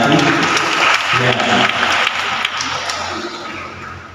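An audience at a parish lector and psalm-singing competition applauds in a dense, continuous burst that gradually softens, with faint voices mixed underneath.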